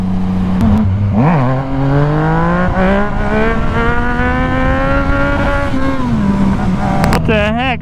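A hot rod car engine revs loud and close, its steady drone climbing slowly in pitch as it drives, then dropping before a sharp final rev burst.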